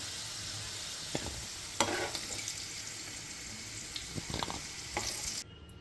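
Biryani masala and cumin fry in hot oil in a pan, giving a steady close sizzle with occasional sharp crackles and stirring scrapes, until the sound cuts off abruptly near the end.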